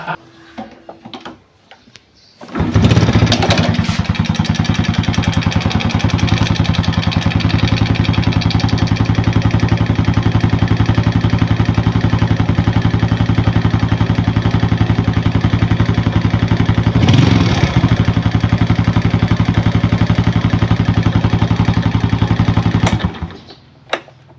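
A car engine with its oil drained runs loudly and roughly at a steady idle for about twenty seconds, with a rattling, knocking undertone, then abruptly cuts off.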